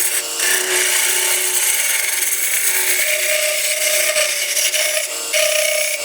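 A woodworking tool chatters against a spinning wooden tenon with a thicker tool, a steady loud scraping rasp with a few brighter squeals, close and continuous without talk.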